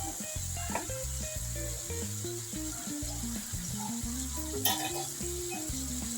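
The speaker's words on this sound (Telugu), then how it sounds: "టమాటా కొద్దిగా ఫ్రై కానీ ఒక 2 నిమిషాలు." Tomato frying quietly in a pan, a soft steady sizzle heard faintly beneath louder background music, with no talking.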